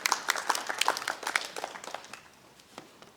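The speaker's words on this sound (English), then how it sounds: "How about a round of applause for your being?" A small audience at a senior center gives a short round of applause, scattered claps that start lively and quickly thin out into a few isolated claps.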